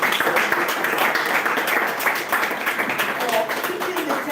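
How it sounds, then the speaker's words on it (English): An audience at an artist talk during an Abuja open house gives sustained clapping, a fairly loud, dense wash of hands with voices mixed in beneath it. "I want us to give Undu White a rounding applause"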